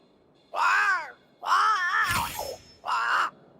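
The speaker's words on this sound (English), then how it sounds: "It's Ceridian, by way of the invisible, speaking through the crow" A crow in the video game Banishers: Ghosts of New Eden gives three loud, drawn-out harsh caws, close and alone, with a brief crash under the second call.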